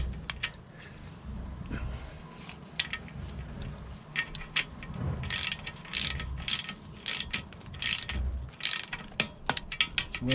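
A ratchet tightens the front wheel spindle clamp bolts on a Triumph Bonneville T140 motorcycle, with repeated close clicking bursts from the pawl and occasional metallic clinks over a low background hum.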